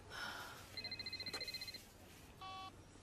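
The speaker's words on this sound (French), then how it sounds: "C'est mon téléphone." A telephone rings in a tense drama scene, a rapid trilling electronic ring pulsing for about a second, then a second shorter tonal ring, fairly faint over a low background hum with no talking.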